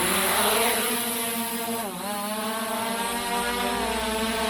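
An XIL 193 Max 2 drone (ZLL SG906 Max 2) lifting off automatically, its motors making a loud steady buzzing whine close by that dips briefly in pitch partway through.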